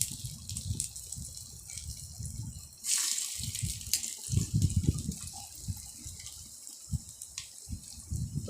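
Puffed rice pakoras, shaped into small round balls, drop into hot oil and fry with a bubbling hiss, swelling in bursts as each piece goes in. The frying is close and steady, with no talking.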